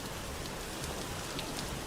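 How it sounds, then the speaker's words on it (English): Steady, dense rain falls in the game Vintage Story as an even wash of hiss with no talking over it. "Oh, now it's gonna rain on me?"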